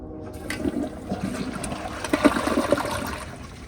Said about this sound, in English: here is a flush.